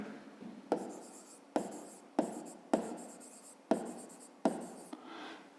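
Handwriting of a fifth-grade math solution, pen or chalk strokes in six distinct scratchy bursts, each starting with a sharp tap and fading, close and clear with no talking.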